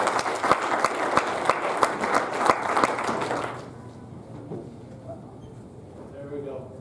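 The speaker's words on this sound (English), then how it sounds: "Let's give him a big round of applause" Church audience clapping before a sermon, loud rhythmic applause with distinct sharp claps that stops abruptly halfway, leaving a quieter room with some murmuring voices.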